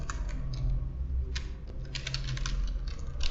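A command is typed on a computer keyboard in quick, irregular bursts of close, clicky keystrokes with brief pauses and no voices.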